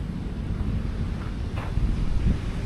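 Strong typhoon wind buffets the microphone at Dolomite Beach on Manila Bay, with rough surf rumbling low and steady underneath throughout.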